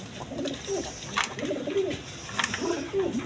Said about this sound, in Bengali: একদম কোয়ালিটি সম্পন্ন কবুতর দেখেন